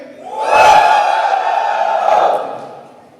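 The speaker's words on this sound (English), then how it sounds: "Single guys, give me a cheer." Crowd of single men in a stand-up comedy audience cheering and whooping together in one loud burst that swells, holds, then fades over a few seconds.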